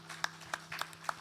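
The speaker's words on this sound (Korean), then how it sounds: "하나님께 영광의 박수 올리겠습니다" Church congregation clapping together during a Friday evening worship service, a quick run of sharp handclaps over a faint steady hum, brief and fairly close.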